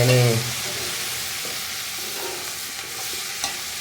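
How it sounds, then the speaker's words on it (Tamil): Garlic sautéing in a pan as it is stirred, a steady soft sizzle running throughout with faint scraping touches and no talk. "இப்போ வதங்கினா போல் போட்டு கொஞ்சம் அப்படியே கிளறி விடுவோம்."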